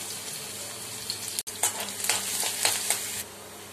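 Garlic frying in a little oil in a pan for a brinjal pepper roast: a soft, close sizzle breaks in after a brief gap and continues with crackling bursts, then fades near the end.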